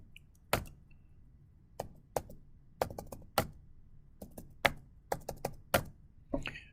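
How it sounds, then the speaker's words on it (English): Sparse, irregular clicks of keys being pressed on a keyboard, close and fairly quiet, with short pauses between bursts and no talking. "Start typing in my numbers."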